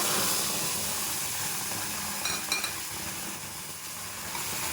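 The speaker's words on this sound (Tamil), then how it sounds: "அரைச்சி வச்சு இந்த பேஸ்ட் அதில் ஊற்றிக்கோங்க" Ground tomato and red chili paste sizzles in hot oil for momo chutney, a loud, broad, continuous hiss with a few soft stirring scrapes near the middle and no talk.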